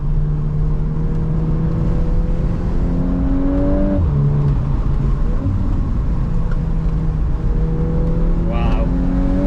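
Steady engine drone from a VW Golf R Mk8 with its stock exhaust while driving, a constant near hum with rising and falling pitch as it revs and shifts, and a few pops near the end.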